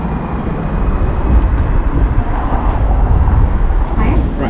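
A Hong Kong tram rolls toward North Point, giving a constant low rumble and rattle from inside the car, loud and close throughout with no clear talking over it.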